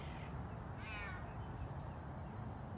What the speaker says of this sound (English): a caracal in the background there